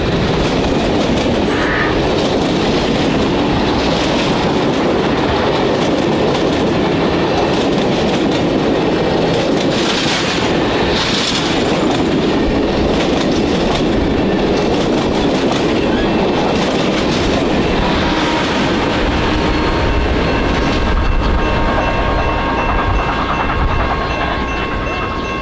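Nickel Plate Road 765 steam locomotive hauls an excursion train between Fort Wayne and Detroit, with a loud continuous rumble and wheel clatter rolling steadily past close by for the whole stretch.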